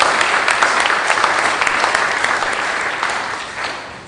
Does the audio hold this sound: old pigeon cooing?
no